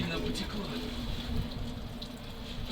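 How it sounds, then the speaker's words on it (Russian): Water pours steadily from a leaking heater hose on a MAZ truck, a continuous close hiss and splash with no breaks. "Вода откуда-то сильно потекла."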